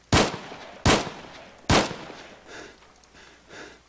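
Three sharp, loud rifle shots ring out at an even pace in the military shooter ArmA 3, each trailing a brief echo, followed by fainter distant reports.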